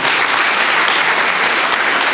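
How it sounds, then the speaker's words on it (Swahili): A crowd at a political gathering applauds a party chairman, a loud, dense wash of clapping that carries on steadily throughout. "Pigeni chairman makofi."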